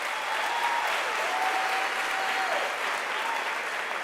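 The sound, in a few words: audience applause at graduation ceremony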